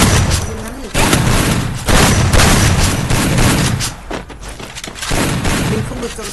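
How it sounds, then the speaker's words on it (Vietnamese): Pistol fire in the Free Fire video game, dense bursts of loud gunshots that come in rapid clusters separated by brief lulls. "Ấy, lại súng ngắn."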